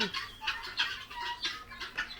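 Repeated chattering calls from grey francolins in a farm, a steady run of short bright cries close by.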